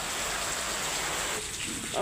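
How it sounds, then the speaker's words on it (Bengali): Steady heavy rain from a cloudy sky hisses in a continuous wash, fairly soft and even, with no voices over it. "আকাশে এত মেঘ, এত বৃষ্টি, জোরে বৃষ্টি পড়া"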